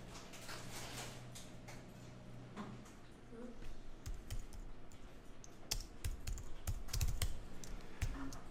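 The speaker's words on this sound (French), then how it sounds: "je tape le texte avec l'outil texte" Close-up tapping on a computer keyboard while entering text in Adobe Illustrator: scattered keystrokes build to a denser, louder run of clicks, with quiet speech mixed in at times.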